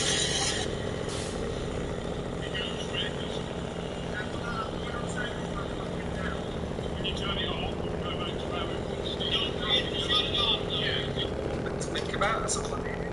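Truck engine with a turbo anti-lag system in the video game SnowRunner, a steady loud mechanical roar with faint popping and crackling bursts toward the end.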